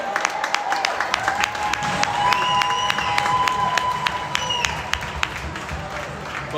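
A hockey crowd cheers and claps steadily, with scattered sharp claps and some shouting over a continuous roar, while a voice talks over it.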